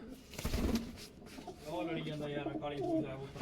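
A soft rustle and flutter, then a pigeon coos nearby in low, wavering tones.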